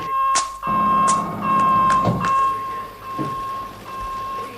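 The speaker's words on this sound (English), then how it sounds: "This is an internal security alarm." An internal security alarm sounds as a steady, piercing electronic tone held continuously, loud and close, with a few sharp clicks and thumps breaking in around it.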